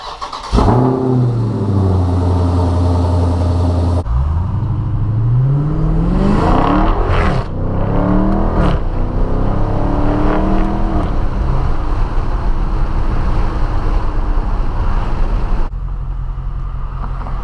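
A Dodge Charger Scat Pack engine and exhaust start up, then rev repeatedly in sport mode, rising and falling with a loud, deep, close rumble before settling back to idle.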